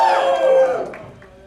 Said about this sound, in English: Fighters, give me a cheer.